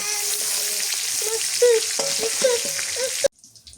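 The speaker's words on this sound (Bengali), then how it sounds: "সবগুলা মাছই ভাজা হয়ে গেছে, এখন নামাই নেই।" Hilsa fish fry in hot oil with a steady close sizzle and some stirring scrapes, then the sound drops away sharply near the end as the pan goes quiet.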